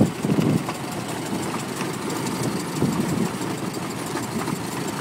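A 1913 Ford Model T engine settles into a steady, rumbling idle after being throttled down, with a low knocking pulse that runs on evenly and close by, nothing else over it.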